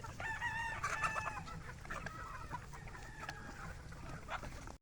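Chickens at a game farm cluck and crow around the feeders, several birds calling at once in a busy, continuous overlapping chorus of short clucks and longer crows close by.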